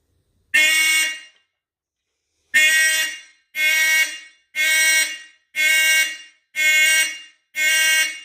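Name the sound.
vintage Simplex 2903 fire alarm sounding during test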